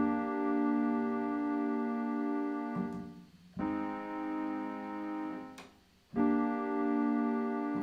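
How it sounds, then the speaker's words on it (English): Sustained piano chords in an inverted progression, with the root raised an octave for smoother voice leading, three rich held chords each ringing out and fading before the next is struck, close and clear with no voices. "On the piano it sounds like this."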